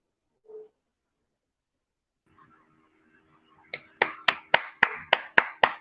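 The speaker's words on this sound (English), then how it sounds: "Round of applause, round of applause." Applause at a Christmas greetings gathering is heard as a short burst of sharp, evenly spaced claps, loud and close, after a few faint isolated sounds.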